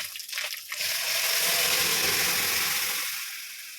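Lentils for dal go into a hot pan of spiced oil with dry chillies, bay leaf and ginger, setting off a loud rushing sizzle that swells, holds for a few seconds, then eases.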